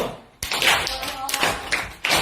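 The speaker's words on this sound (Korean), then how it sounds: "자, 크게 쳐, 크게. 다시 박수." Students in a classroom clap again, louder, for a new classmate: sharp, close claps that start abruptly and come in irregular surges, with some voices mixed in.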